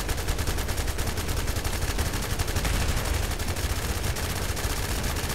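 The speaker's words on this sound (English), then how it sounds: "I'm just shooting her knees, or the side of the knee" Sustained automatic gunfire in the video game The First Descendant, aimed at a boss's knees during a fight; a loud, unbroken rapid stream of shots with a dense crackling texture and no pauses.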